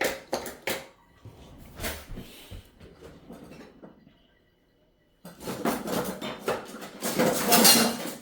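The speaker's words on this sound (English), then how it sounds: "Okay, get a knife." Knife picked up from a kitchen bench and handled for cutting sticky rēwena dough, giving a few clinks and clatters of cutlery and pans, then a quiet gap before a louder burst of scraping and knocking.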